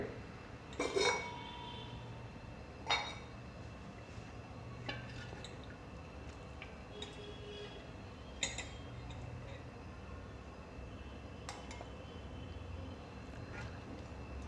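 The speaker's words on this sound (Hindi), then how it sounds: "अब हम गैस को बंद कर रहे हैं और इसे एक सेपरेट पैन के अंदर अब हम डिश आउट करेंगे।" Mutton Beliram curry is dished out from a cooking pot into a separate pan, with a few scattered clinks and scrapes of a metal ladle against cookware over a quiet background.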